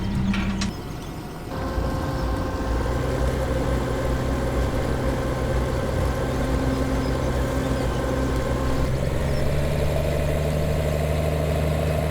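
Tractor engine idling steadily in Farming Simulator 17, a continuous mid-low rumble with a slight shift in tone partway through, close and alone.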